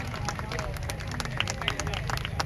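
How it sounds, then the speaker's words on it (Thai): At a student mor lam event on an outdoor university plaza in Ubon Ratchathani, a crowd applauds with quick, scattered claps mixed with murmuring voices and babble. "ขอเสียงปรบมือให้กับเราศิลปินนะครับและท่านประธานในพิธีครับ"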